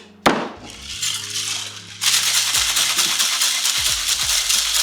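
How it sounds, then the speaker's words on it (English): A cocktail shaker loaded with lots of pebble ice gets a clunk as it closes, then a vigorous, continuous rattling shake of ice that runs loud and close for several seconds. "I'm then going to add a lot of pebble ice to the shaker and give this a nice shake"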